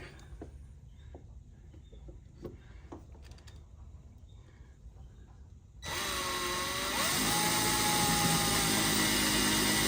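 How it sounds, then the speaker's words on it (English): A power drill whirs loudly and steadily, drilling sideways at an angle, after a few seconds of quiet handling and clicks, running continuously to the end. "So I'll drill all 4 of these."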